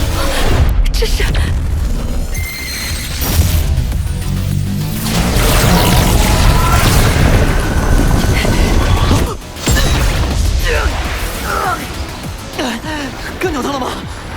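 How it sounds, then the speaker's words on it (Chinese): Heavy cannon bombardment in an animated sci-fi series: rapid booming blasts and crashing impacts pile up into a loud, dense barrage, with voices shouting through the din and a brief gap near the end. "盖亚，全功率无限制轰炸，开炮"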